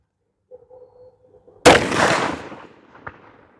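A CVA Crossfire muzzleloader fires a 290 grain bore driver bullet with a 100 grain Firestick charge: one sharp, loud blast that rolls into a decaying boom lasting nearly a second, with faint echo after and a soft hum before.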